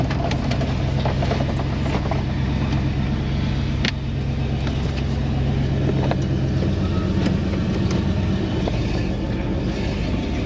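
A 1978 Ford F350 truck pulls away with a loud, steady low engine rumble and road drone that stays constant throughout, with no talk.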